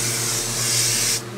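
A steady hiss from a spray can applying a coating to a handmade rook chess piece, close and continuous for about a second before cutting off abruptly, leaving a low hum.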